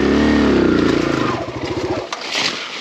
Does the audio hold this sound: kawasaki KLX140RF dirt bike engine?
yes